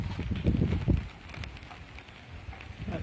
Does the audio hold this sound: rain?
yes